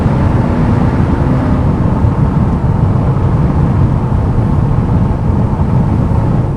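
A 2002 Chevrolet Camaro SS with a 5.7 V8 and six-speed manual cruising at 60 mph around 1,200 RPM, heard from inside as a loud, steady low engine drone blended with road and wind roar, no voices.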